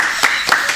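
A few isolated hand claps from one person during an interview, sparse and close, sounding thin against a steady background hiss.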